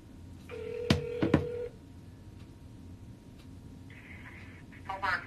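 A telephone call is dialed to a Popeyes restaurant: a few sharp keypad tones sound close together, followed a couple of seconds later by short ringing and line tones, all fairly quiet.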